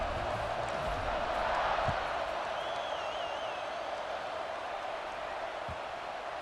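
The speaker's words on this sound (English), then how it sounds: "this crowd is buzzing after that last score" A large stadium crowd buzzing after a touchdown in EA Sports College Football 26, a broad, steady roar of many voices filling the background with a faint whistle rising above it.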